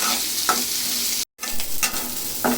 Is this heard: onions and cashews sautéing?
yes